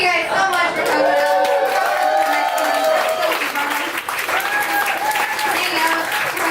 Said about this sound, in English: Keep clapping, keep clapping. Don't stop clapping